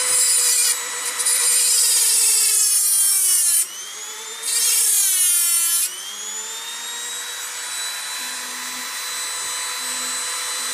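A powered cutting tool grinds through a Duncan coral to take a frag: two loud, harsh bursts of cutting over a steady motor whine that keeps running afterwards, close by with no talking.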